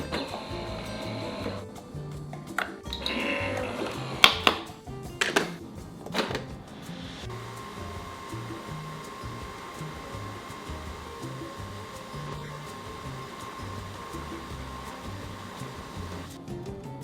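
A Nespresso Vertuo Plus coffee machine brews. A few clatters and knocks come first, then a steady, close whirring hum runs unbroken for about ten seconds.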